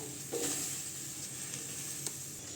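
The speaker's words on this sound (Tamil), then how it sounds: "எண்ணெய் ஊற்ற வேண்டாம் சும்மாவே வதக்கிக்கலாம் நல்லா வதக்கணுங்க" Okra sautéing in a dry pan with no oil gives a steady, close sizzle under occasional stirring scrapes, with no voices.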